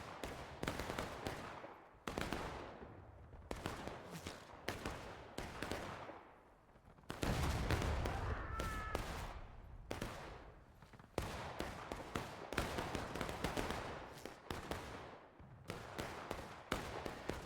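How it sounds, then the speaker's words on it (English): Enemy gunfire in a multiplayer shooter game rings out as repeated sharp reports and rapid volleys, some near and loud, others distant, with short gaps between bursts and no talk. "They're shooting at us though."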